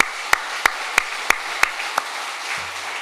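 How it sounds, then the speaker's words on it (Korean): A congregation in a church claps in unison, six sharp, evenly spaced claps over a soft background wash, followed by a low hum. "하나님께 영광의 박수 올려드리겠습니다."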